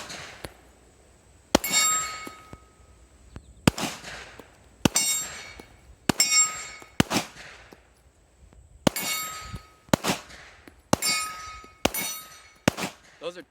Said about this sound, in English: Those are 10-inch plates at like 25 yards, and I'm hitting them most of the time, if not every time.